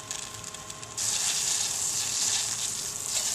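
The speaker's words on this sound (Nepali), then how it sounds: "अब यो पानी उम्लिन लागिसकेको छ" Water in a pot on the stove starts to boil for a home cold remedy. After a quieter moment, a close, steady bubbling hiss swells up and carries on to the end.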